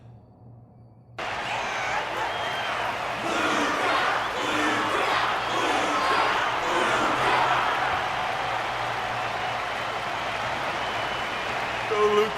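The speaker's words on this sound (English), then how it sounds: "Their constant applause is a salute to this resilient Belabogian fighter." Sustained crowd applause and cheering from an arena audience in Honkai: Star Rail, steady and full after a brief quiet start, continuing for several seconds with no break.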